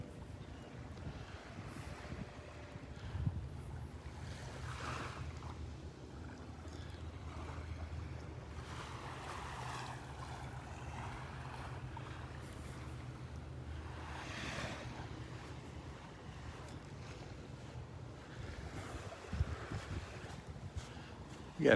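Ocean surf rolls in on Vanderbilt Beach under gusty wind, with wind buffeting the microphone and soft waves breaking at intervals through a steady wash; no one speaks.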